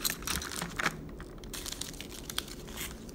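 Tape peeled off a Japan import package holding a Ventus Plitheon Bakugan, producing close, irregular crackling and sticky tearing with crinkly snaps and no talk.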